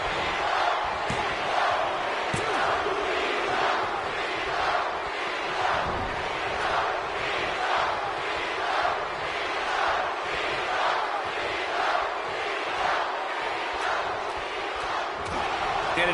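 A large wrestling arena crowd at WrestleMania in London roars continuously, a dense steady wall of cheering with occasional thuds beneath it.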